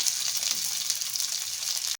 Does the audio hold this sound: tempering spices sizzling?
yes